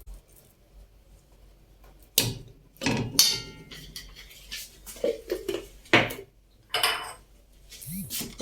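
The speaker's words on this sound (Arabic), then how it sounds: "جبنا حلة وهنطبخ فيها، وهناخد فيها معلقة سمن من دي" A spoon clinks against a metal cooking pot while ghee is scooped into it, a few separate sharp metallic taps and scrapes close by, with quiet gaps between them and no talking.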